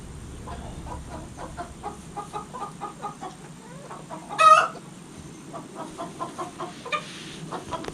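Hens clucking steadily inside a freshly cleaned chicken coop, a flock of soft repeated clucks in uneven rhythm with one louder, sharper squawk near the middle, close and clear with no talking.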